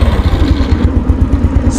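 Used motorcycle engine running close by with a rapid, lumpy idle thump and a slight throttle rise, heard alone without talk.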